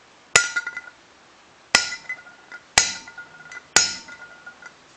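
Four sharp metallic hammer blows, each ringing and decaying, spaced about a second apart as an inner bearing race is driven into the hub of a 1997 Volkswagen Cabrio, heard up close with no talking.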